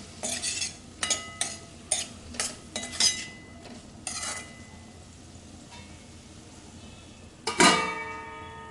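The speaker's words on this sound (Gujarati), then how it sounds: "તો હવે આપણે એમાં ડુંગળી ઉમેરી લઈશું। બરાબર મિક્સ કરી અને પણ 5 મિનિટ સુધી ચડવા દઈશું ડુંગળીને" Onions being stirred into cooked potatoes in a pan for bataka pauva, a spoon scraping and clinking against the metal in a series of distinct strokes, with a faint sizzle between them and a final louder clank.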